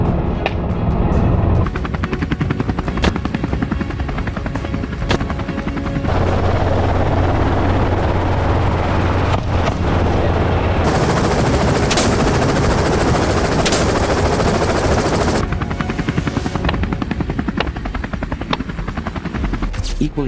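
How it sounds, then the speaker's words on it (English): A helicopter flies low over a hog hunt, its loud, constant rotor and engine roar running throughout while rapid bursts of AR-15 style rifle fire crack over it, with a sharp hissing stretch midway. "Once hogs are spotted, pilots maneuver low and fast to give shooters an angle for a safe, precise shot."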